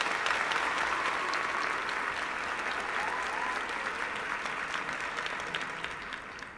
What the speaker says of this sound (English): April, here's a round of applause.